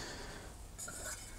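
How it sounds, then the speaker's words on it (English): A metal lid set onto a Robens camping frying pan, giving a brief light clink and scrape of metal on metal, close and fairly quiet with no talk. "the lid also fits on top of the frying pan"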